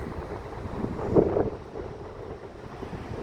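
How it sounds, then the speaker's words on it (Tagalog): Wind gusting along the Blackpool promenade, a steady broadband rush buffeting the microphone with a brief stronger gust near the middle, no voices. "Windy ngayon."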